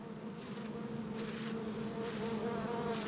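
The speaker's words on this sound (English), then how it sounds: "The bees fan their abdomens in unison, a defensive wave warning off potential honey raiders." Giant cliff bees swarm over a hive built on a rock face, making a steady, dense buzzing drone that continues without a break and sits at a moderate level with no voices.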